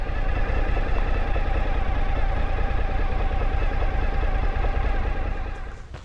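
A motorcycle engine idles steadily with a low, rough rumble, loud and close, easing off slightly near the end.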